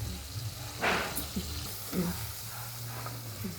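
Bilimbi dropped into a pan of frying green chilli and tomato, giving a soft burst of sizzling followed by steady frying and a few stirring scrapes, close by.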